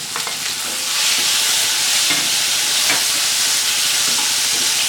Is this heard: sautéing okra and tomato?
yes